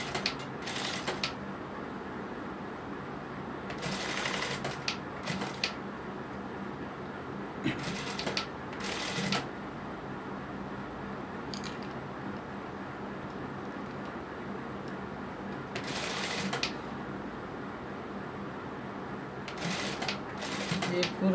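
A sewing machine stitches a kurti neck in short bursts of rapid mechanical whirring, separated by quieter pauses, with a person talking throughout.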